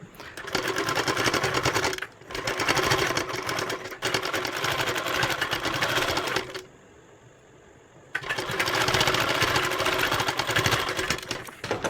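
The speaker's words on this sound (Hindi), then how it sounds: "तो ये सिलाई बाजू वाले कपड़े पर चलनी चाहिए, जड़ में नहीं लगानी है सिलाई आपको" An electric sewing machine stitches a sleeve piece in long loud runs of rapid mechanical whirring, broken by a brief stop near two seconds and a longer pause of quiet hum before resuming.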